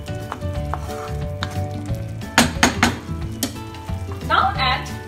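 Roasted gram flour being stirred into a sizzling gravy in a pan, with a steady frying hiss underneath and a few louder scraping, clattering stirs of a spoon against the pan near the middle and end.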